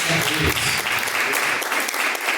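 A church congregation claps in a dense, fairly loud burst with a voice and low musical tones underneath at the start, then settles into steady applause.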